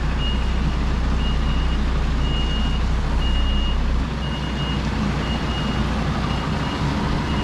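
Delivery truck backing a trailer into a unit, with an evenly spaced reversing beeper sounding over a loud steady diesel engine drone heard from the cab.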